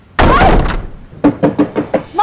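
A heavy thump on a wooden door is followed by a rapid series of five or six firm knocks, loud and close, in a quiet indoor room.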